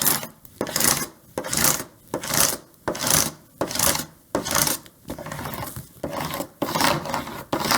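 A scraper tool is dragged back and forth to burnish vinyl onto transfer tape, giving loud, steady rasping strokes in an even rhythm of about two per second, close up and with no voices.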